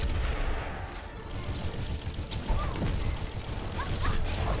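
Bursts of gunfire from a competitive Overwatch match, with rapid shots running through a dense, continuous wash of game noise at steady loudness.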